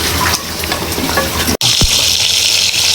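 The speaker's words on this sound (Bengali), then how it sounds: "মাথাগুলো ভেজে নিই" Hilsa fish heads frying in hot oil give off a loud, steady sizzle, broken by a sharp click partway through, after which a brighter hiss takes over.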